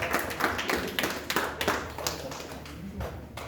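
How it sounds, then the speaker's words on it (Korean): A middle-school congregation at a Sunday church service claps briefly after a closing prayer, a short scattered round of hand claps at modest volume. "또 박수로 마무리하겠습니다"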